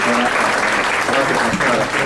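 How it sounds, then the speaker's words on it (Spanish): An audience at a family-law conference in Guanajuato breaks into loud, steady applause welcoming a magistrate to speak, a dense wash of many hands clapping continuously throughout. "vamos a recibirla con un fuerte aplauso"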